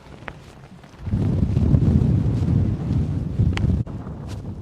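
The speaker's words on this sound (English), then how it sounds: "I would say that wind is a good 10-15 miles an hour more than the forecast" Strong gusting wind on an open fell hike at Wild Boar Fell, buffeting the microphone in a loud rumbling roar that swells after a quieter start and then holds steady.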